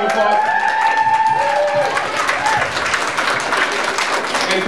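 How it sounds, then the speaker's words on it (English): A crowd applauds at a Citizenship Day 2009 event, with dense steady clapping filling the room throughout and a few tonal notes fading early on. "let's give a round of applause"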